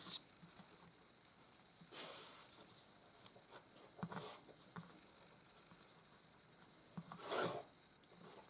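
A dog makes faint rubbing, scratching noises in a quiet room, in soft irregular bursts with a few louder scrapes, no talk.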